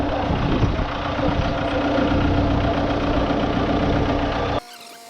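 A Sampo 410 combine harvester's large diesel engine idles loudly close by with a steady, rough drone, then cuts off abruptly near the end, in Myloradove village, Poltava region, Ukraine.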